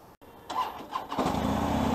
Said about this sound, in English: And now I'll be riding a Harley Davidson Fat Bob in Bombay.